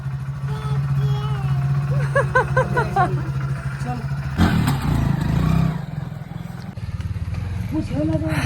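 A motorcycle engine idles and revs on a hill road in Uttarakhand, a steady close drone with rising throttle bursts and clattering, loud throughout.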